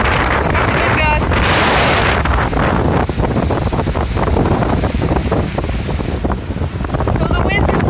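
A strong wind gust during a flash flood emergency in downtown Jacksonville roars loudly and continuously across the microphone, buffeting it over splashing water, with a voice faintly mixed in.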